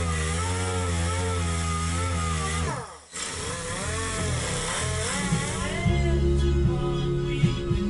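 A power sander works over an epoxy countertop in a shuttle bus camper, giving a loud, steady droning whine that dips briefly partway through before running on evenly.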